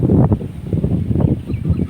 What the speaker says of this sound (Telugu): గాలి చూడండి ఎలా ఉందో